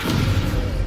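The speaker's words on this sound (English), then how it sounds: "Descendo is a forceful move object downward and slam enemy to the ground" A Descendo spell in the Hogwarts Legacy video game slamming a target to the ground, heard as one short, loud, heavy thud.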